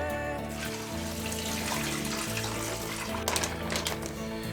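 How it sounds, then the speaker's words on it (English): Marinade pours steadily into a plastic Ziploc bag, a continuous gurgling splash that runs for several seconds and briefly gets a little louder near the end. "We're just gonna pour this into the bag."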